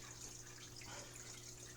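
Steady, soft hiss of water pouring into a container for a fish tank, unbroken for the whole moment with no voices.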